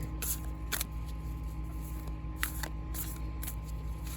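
Tarot cards being shuffled slowly, with a handful of soft, crisp riffling bursts spaced irregularly and close up in a quiet room.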